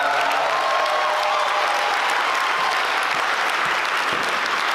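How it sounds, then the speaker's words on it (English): Dense, continuous applause and cheering from a crowd at a drag show, loud and unbroken throughout, with a faint held tone drifting underneath near the start. "One more round of applause for all of the talent you saw."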